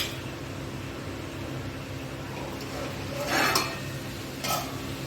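Cauliflower curry being stirred in a covered pan over low gas, with a steady soft cooking hiss and a couple of brief scraping stirs near the end.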